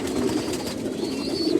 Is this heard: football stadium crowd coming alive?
no